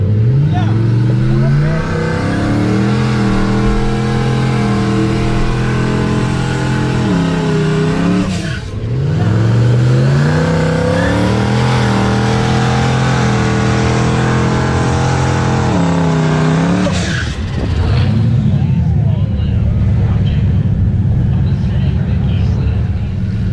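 Turbocharged car engine at a drag-racing event revving hard during warm-up, loud rising and falling roars in several long pulls, close by, with people talking over it.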